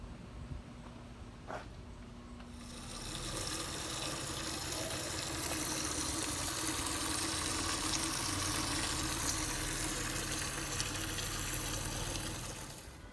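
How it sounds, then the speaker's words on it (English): Pure water gushing steadily into buckets for commercial window cleaning, a broad continuous rushing fill that swells after a few seconds and holds loud and close to the end, with a low engine-like hum beneath. "So we're using pure water to fill up our buckets"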